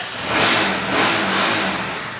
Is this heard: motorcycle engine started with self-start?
yes